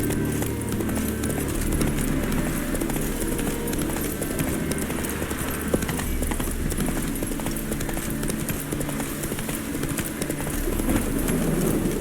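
Galloping horse hooves pound fast and continuously in The Witcher 3, close and loud, blended with a dense outdoor ambience and no clear talk.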